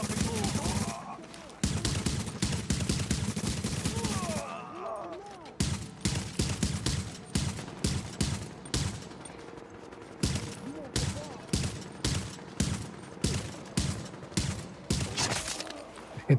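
Gunfire in the video game The Division 2: a long sustained automatic burst, then rapid rhythmic volleys of loud shots with brief gaps, plus some louder bangs and echoing mechanical clatter.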